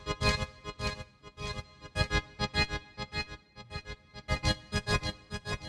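A dark, noisy synth sound called Noises in the Dark plays in choppy, distorted bursts, with repeated stabs in an uneven rhythm and a delay effect trailing after the hits. It is loud, with no voices.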